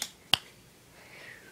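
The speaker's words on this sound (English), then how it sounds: "When I snap my fingers twice, you will stop." A single sharp finger snap cracks out near the start, followed by a quiet, faint background with a brief tonal sweep near the end.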